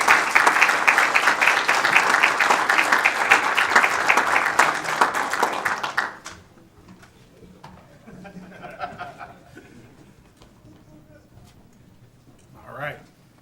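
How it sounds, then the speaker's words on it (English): A city council meeting audience gives a long-serving council member a round of applause, dense clapping for about six seconds that stops abruptly, followed by quiet room noise and faint talk. "Let's give Councilmember Dovey a big round of applause."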